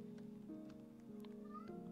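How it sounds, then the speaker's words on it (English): A pet cat meows a few times, faint and nearby, set against a steady background hum from video game music in a Roblox Backrooms game. "Meow."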